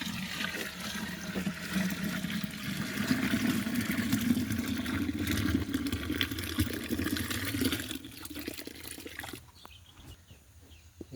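Water gushes steadily into a 10-litre clay pot, a continuous pouring rush that fills the space for several seconds, then tapers off abruptly near the end, with no talking.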